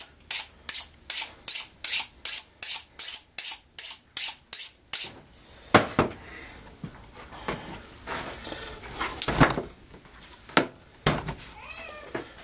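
A knife works meat off a deer's front shoulder bone, first with a quick run of about a dozen evenly spaced rasping strokes, then with slower, irregular scraping and cutting passes, close and fairly loud.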